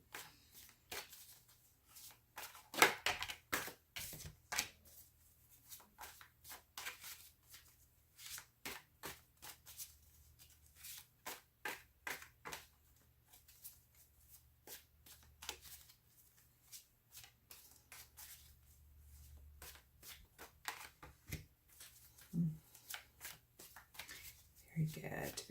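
Tarot cards shuffled and drawn by hand, quiet repeated riffling snaps and soft card slaps in an uneven rhythm, under faint talking throughout.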